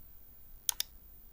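Two quick, crisp computer mouse clicks about a tenth of a second apart, close and clear against a quiet room, used while opening a network adapter's details in Windows 10.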